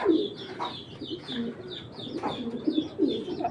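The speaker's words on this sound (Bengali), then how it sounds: "এ হলো আপনার কবুতর, যাদের ভালো লাগবে কালেকশন করে নেবেন" Pet racing pigeons of a foreign bloodline coo softly and repeatedly, close by, in a rhythmic series of throaty calls over low background noise.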